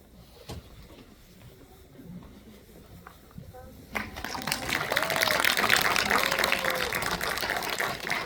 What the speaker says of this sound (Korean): 두 분의 배우님 그리고 감독님께 저희 함께 박수 치면서 이 자리 마감하도록 하겠습니다